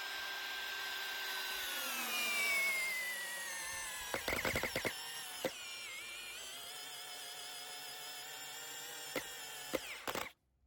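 A Parkside Performance 12V drill drives a thick 8x160 screw into wood, its motor whining steadily at close range with a rising-then-falling pitch, broken by a few sharp clicks and creaks before cutting off.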